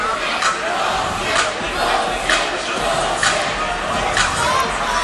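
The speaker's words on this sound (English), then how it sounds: "Loud crowd here tonight" A packed arena crowd roars continuously at a 2010 Edwardsville vs Alton high school hockey rivalry game, dense cheering and shouting with scattered thuds and claps rising above the steady din.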